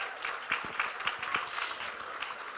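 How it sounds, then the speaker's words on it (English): Faint scattered applause from an audience at a county fair queen event, a light patter of claps spread over a few seconds at some distance. "let's give Garrett a round of applause"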